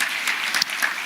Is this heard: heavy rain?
no